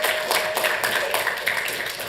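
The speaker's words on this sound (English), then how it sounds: "So that deserves a round of applause." Applause fills a city council meeting chamber, a steady patter of clapping from the audience that carries on briefly at a moderate distance.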